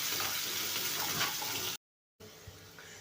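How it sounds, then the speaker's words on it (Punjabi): Finely chopped onion fries in hot oil with spices, a steady close sizzle that cuts out briefly and then resumes more softly, with no voices over it. "ਇਹਨੂੰ ਹੁਣ ਪਿਆਜ਼ ਨੂੰ ਆਪਾਂ ਚੰਗੀ ਤਰ੍ਹਾਂ ਭੁੰਨਾਂਗੇ ਜਦੋਂ ਤੱਕ ਇਹ ਬ੍ਰਾਊਨ ਨਹੀਂ ਹੋ ਜਾਂਦਾ"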